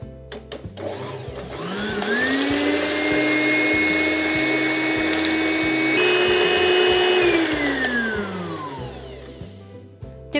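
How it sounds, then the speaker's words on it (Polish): An electric hand mixer whipping cream to stiff peaks, a steady loud motor whine that ramps up, holds for several seconds, shifts pitch once, then winds down and stops. "Teraz ubijamy śmietankę mikserem na sztywno."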